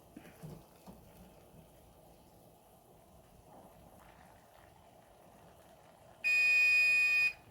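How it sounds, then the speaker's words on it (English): An electronic kitchen timer in a home kitchen during vegetable preserving goes off near the end with a loud, steady high-pitched beeping tone lasting about a second, after quiet kitchen background noise. "so I'm gonna set my timer for 2 minutes"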